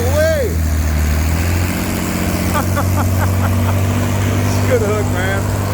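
An antique tractor engine roars at a tractor pull at the Carroll County Fair in Illinois. The loud, steady, close engine drone runs throughout, with crowd voices and chatter over it.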